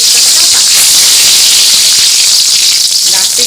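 Fresh, not-yet-dried bay leaf dropped into hot oil with cumin seeds for tempering gives a loud, steady, hissing sizzle that holds without pause from start to finish.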